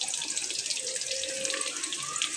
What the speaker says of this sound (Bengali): তো তেলটা হয়ে গেছে, রসুনটা দিয়ে দিচ্ছি।